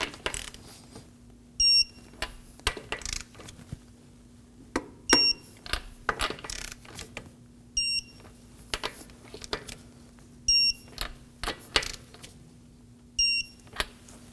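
Torque wrench tightening lug nuts on a 2016-2020 Kia Sorento wheel in a star pattern: sharp metallic clicks in separate clusters every couple of seconds, with fainter clattering between, near and moderately loud, no talk.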